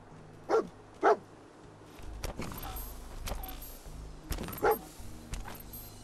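A dog in the Fallout 4 video game gives several sharp barks in two pairs, separated by quieter game ambience and a few soft thuds, heard fairly close.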